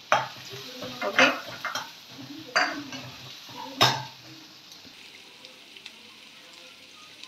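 Onions tipped into hot oil seasoned with a spoonful of asafoetida for a mixed vegetable curry, sizzling loudly with several bursts as they land and are stirred, then settling into a steady frying hiss; a brief word is spoken.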